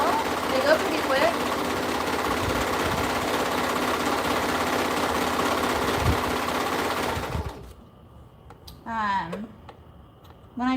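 A serger sewing machine trims and stitches fabric in a circle, a loud, steady, close mechanical hum for about seven seconds. It then stops, leaving a brief voice.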